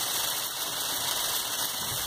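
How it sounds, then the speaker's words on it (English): Sleet and snow pelting the roof of a taxi, heard from inside the cab as a steady, dense hiss and patter with a faint low rumble underneath, no talking. "That is the sound of the sleet falling on the car from outside."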